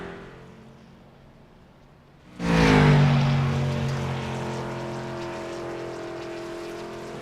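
A late model race car rolls out and roars to life on the Knoxville dirt track, its engine note rising to a loud, sustained drone with harmonic whine that gradually eases while staying close and powerful.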